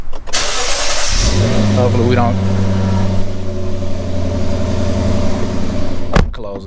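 A modified car's engine cranks and catches, then settles into a loud, rumbling idle that holds steady, with a person talking over it close by.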